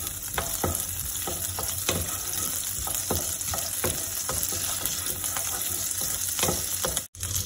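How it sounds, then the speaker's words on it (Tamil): Butter melting with a bay leaf in a pan for tomato soup, a steady close sizzle with frequent small pops and crackles throughout, briefly cutting out near the end, with no speech. "ஸோ பட்டர் கொஞ்சம் மெல்ட் ஆகட்டும்."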